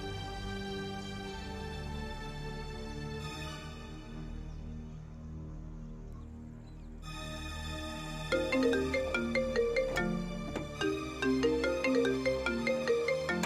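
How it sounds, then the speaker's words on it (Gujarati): A mobile phone ringtone plays a melodic electronic tune with steady repeating notes, growing busier and louder with rhythmic pulses in the second half, with no voices. "આઘુનો ફોન."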